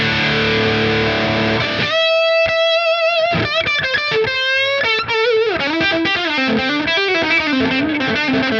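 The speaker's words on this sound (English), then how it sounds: "finally to the jump channel with that higher gain setting." Electric guitar played through a Tonex amp model on the jump channel at a high gain setting, a loud, distorted tone with sustained chords giving way to ringing single notes and bends, sounding alone without talk.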